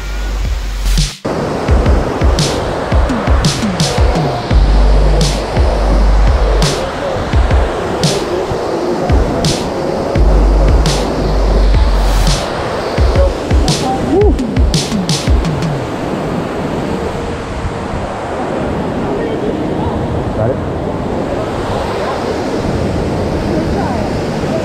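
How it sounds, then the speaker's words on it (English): Waterfall at High Falls in DuPont, North Carolina, rushing loudly and steadily up close, a dense continuous roar of falling water and mist with wind buffeting the microphone. "There's like a mist coming out of the waterfall with all the pressure, the spray that just emits,"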